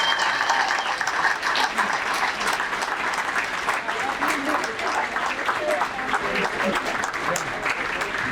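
Audience at the 2019 BC Football Hall of Fame induction ceremony gives a sustained round of applause, even and full-bodied from start to finish in a large room.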